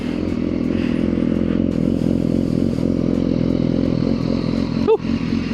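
A 1000cc motorcycle with a stock factory exhaust idles in a steady, throbbing rumble, close and continuous, with a brief scrape or clatter near the end.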